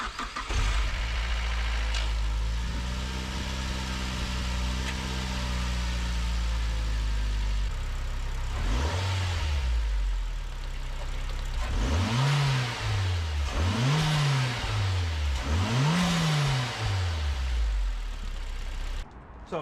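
A turbocharged Mazda MX-5 Miata NC engine cranks, catches and settles into a steady idle, then a series of rising and falling revs, four blips in close succession, loud and close with no talking.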